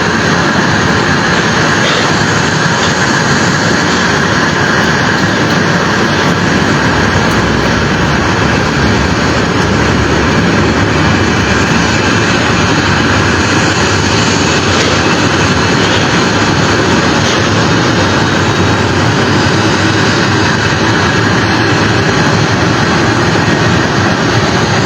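A commercial jet airliner carrying Liberia's president drones steadily throughout, a loud, dense and continuous engine roar heard up close from inside the cabin, with no voices.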